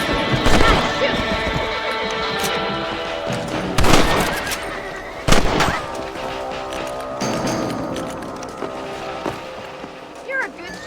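Horses whinny and neigh in Red Dead Redemption on PS5, with clip-clopping hooves and a few sharp impacts over a busy outdoor game soundscape, with talk mixed in.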